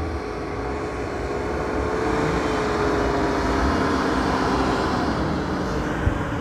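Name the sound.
Land Cruiser engine revving while climbing a sand dune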